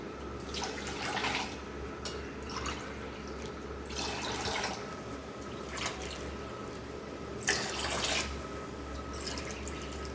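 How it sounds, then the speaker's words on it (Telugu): Four glasses of water pour in several bursts into a pressure cooker of rice, splashing and gurgling over a low steady hum, quiet and close. "ఇప్పుడు నాలుగు గ్లాసులు వాటర్ని పోసుకోవాలి"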